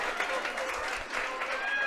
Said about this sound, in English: She gets a generous round of applause from the crowd.